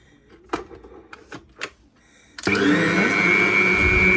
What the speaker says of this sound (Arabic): نضربه في الخلاط.